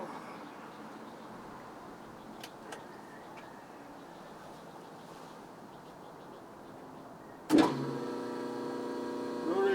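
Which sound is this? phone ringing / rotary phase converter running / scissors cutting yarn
rotary phase converter running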